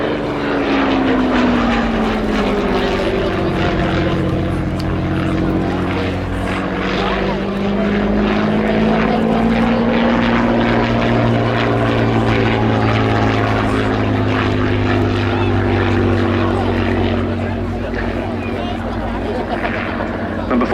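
A Hawker Fury Mark I biplane with a 525 horsepower supercharged Rolls-Royce Kestrel V12 piston engine flies a display at an RAF air show, its loud throbbing propeller drone rising and falling in pitch as it passes, with a commentator talking over it.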